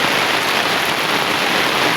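Steady rain pours down outdoors beside a cooking spot, a dense, even hiss that stays loud and constant throughout.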